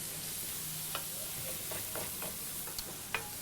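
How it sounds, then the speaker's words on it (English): Butter melts and sizzles in a pan over indirect heat on a Weber grill, a steady soft frying hiss with a few light scraping clicks as the pan is swirled. "We'll just melt the butter down, circulate that around the pan."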